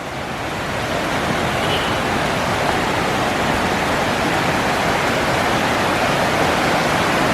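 A clear river in the Pekalongan countryside flows with a continuous, fairly loud rushing hiss of water, steady throughout and without voices.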